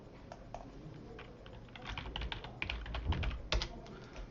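Typing a search query on a computer keyboard, a steady run of close, light key clicks that grows denser and slightly louder toward the end, with no voices.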